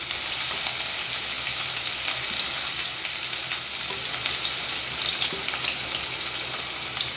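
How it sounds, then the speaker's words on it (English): Chopped chili, ginger and garlic hit hot oil in a pan with a steady, loud, even sizzle that holds throughout, with no talking. "Now we'll add the chopped chili, ginger and garlic."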